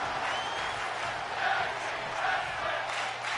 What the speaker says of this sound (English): Crowd chanting for tag team wrestling.